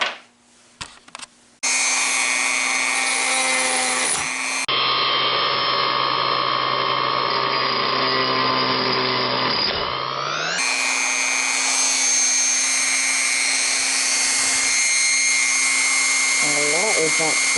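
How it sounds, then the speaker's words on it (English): A Dremel rotary tool fitted with a grinding bit carves into a steel file being shaped into a knife, a loud steady high-pitched whine that dips in pitch under load mid-way, then rises again. "Now I'm going to carve out the middle there with a grinding bit on the Dremel."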